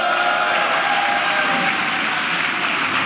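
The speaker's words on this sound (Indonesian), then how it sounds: "Tepuk tangan untuk Ajis Doaimu." A live podcast show audience in Bekasi claps loudly and continuously to welcome a guest on stage, with a faint whistle tone riding over the steady applause.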